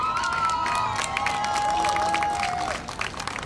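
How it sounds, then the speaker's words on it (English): Crowd applause and cheering at a women's cricket final of a premier league tournament, a broad wash of claps and voices with a whistle-like tone over it, lasting about three seconds before fading. "Have a big clap for both the teams, please."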